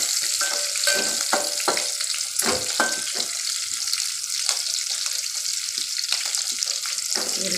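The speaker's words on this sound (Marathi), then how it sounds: "मस्त असं मिरची पण भाजून घ्यायची।" Green chili peppers roast in a pan with a close, steady sizzle broken by frequent clicks and pops and occasional scrapes as they are moved.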